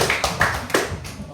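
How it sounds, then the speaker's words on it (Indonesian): A few students in a classroom clap their hands in short, uneven bursts, with sharp claps close by and fading quickly. "tepuk tangan untuk kalian semua"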